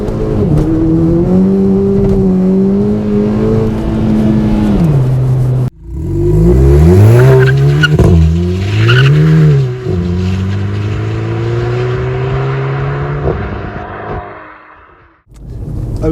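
Racingline-modified VW Polo GTI hatchback pulling away hard from a standstill without launch control, its engine revving loudly and climbing through gears with short shift dips, close and dominant before easing off at the end.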